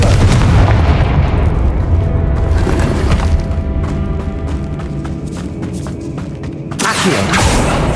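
In the Hogwarts Legacy game, a Confringo blasting curse sets off a loud booming explosion with shattering debris, a ringing tail, and a second blast near the end.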